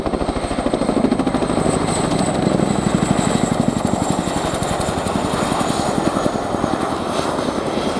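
RAF Boeing Chinook HC.6 twin-rotor helicopter in a tactical role flying display at an airshow, a loud continuous roar of turbines with fast rhythmic rotor blade chop throughout, close and steady.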